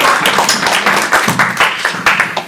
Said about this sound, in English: Please give a big round of applause to Dr. Vemuri Murthy.